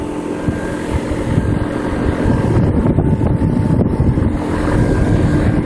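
A Trane heat pump running outdoors gives off a loud, steady broadband whoosh of fan airflow with a low hum underneath, continuous with no talk.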